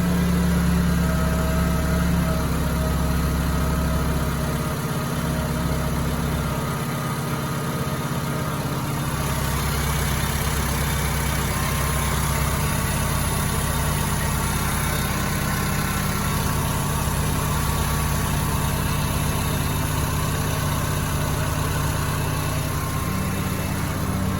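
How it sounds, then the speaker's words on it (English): A 2008 Honda Civic engine idles steadily and loudly with a constant low rumble, running alone without any voices. "The car is running."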